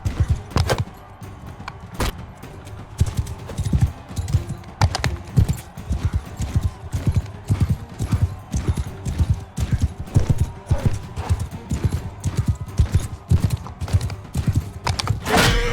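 Hooves of a galloping horse in Mount & Blade II: Bannerlord clip-clop in a fast, uneven rhythm throughout, with occasional snorts, steady and fairly close.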